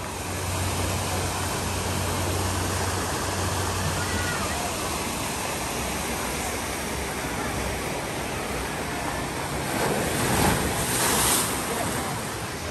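Water splashes and churns at an outdoor aquatic center pool, a steady broadband wash of splashing with some wind noise, rising a little louder toward the end.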